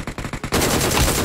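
PUBG Mobile gunfire: a handful of distinct, evenly spaced shots, then a dense, loud burst of rapid automatic fire that runs on without a break.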